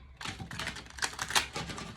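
Tarot cards are shuffled in quick crisp riffles, a rapid flurry of papery clicks and snaps lasting a couple of seconds, close and fairly quiet with no talking.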